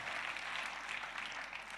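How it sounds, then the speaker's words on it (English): An audience claps steadily at a social-impact talk, a dense, even patter of many hands that holds at a moderate level for the whole stretch with no voices over it. "Please give yourselves a big round of applause."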